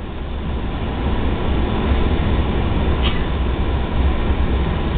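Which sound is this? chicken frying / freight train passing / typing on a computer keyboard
freight train passing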